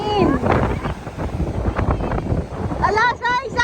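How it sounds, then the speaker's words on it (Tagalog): Strong wind buffets the microphone outdoors in steady, loud rumbling gusts, with people talking and singing over it. "Lakas ng hangin."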